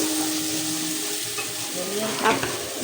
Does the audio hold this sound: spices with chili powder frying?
yes